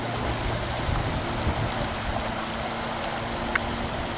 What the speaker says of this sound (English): we were recording the sound of the creek